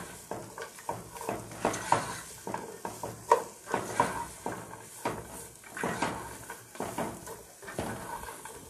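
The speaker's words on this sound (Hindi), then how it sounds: "कैरेट डाल के थोड़ा सा फ्राई करेंगे" Carrots stir-frying in a pan for chicken chow mein, with a steady hiss broken by repeated scraping stirs and light clinks of the utensil against the pan, fairly close and without talk.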